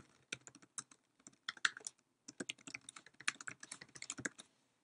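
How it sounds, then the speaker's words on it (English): Quick, light clicks on a computer keyboard as a name and description are entered into a software dialog, coming in irregular bursts of keystrokes with a brief pause midway, quiet and close, with no talking. "I type a name for my custom view and I'll type a description."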